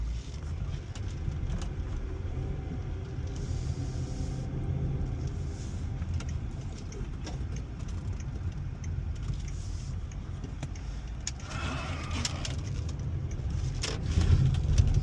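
An old dealer-auction L322 Range Rover on a test drive, heard from inside as a steady low engine and road rumble with faint rattles, moderately quiet and continuous, no talking.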